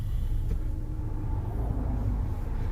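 Volkswagen Beetle on a test run, a steady low rumble of engine and road noise heard from inside the car, continuous and fairly loud throughout.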